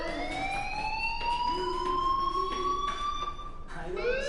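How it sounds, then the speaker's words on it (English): A fire alarm rings in the Life is Strange video game, a steady electronic tone holding on without a break for the whole stretch, loud and close, with a faint voice murmuring underneath. "do you hear that fire alarm?"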